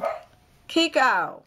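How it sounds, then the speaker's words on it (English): A dog barks a couple of times at something heard outside, the sharp barks loud and close, while a person talks and tries to hush it. "He barking at somebody."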